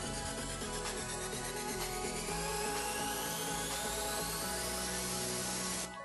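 A drill with a 3/16 bit bores a hole into the frame of a C-Light sliding aluminum window. It gives a steady, loud, whining grind with strong harmonic tones for about six seconds, then stops abruptly.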